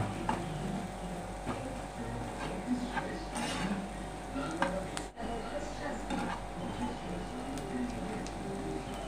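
Onions sizzle steadily in a pan as they are stirred for a masoor dal kaliya, a soft crackling hiss with occasional scrapes of the spoon throughout.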